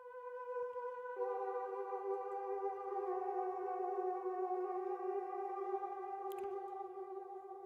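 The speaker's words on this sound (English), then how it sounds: "Next, I threw a choir sound that I got from Repro One" A sustained synthesized choir pad from the Repro One synthesizer's Blue Skies Above preset holds a soft, steady chord that shifts once early on, with a brief click near the end.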